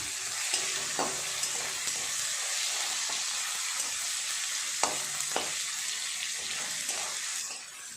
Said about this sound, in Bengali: মশলাটা ভাজা হয়ে গেছে, তুলে নেব